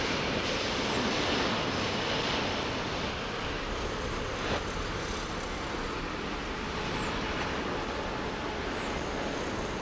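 Heavy jet engines roar broadband and steady at Heathrow runway 09R, a loud close-up rumbling wash that barely varies over the whole stretch.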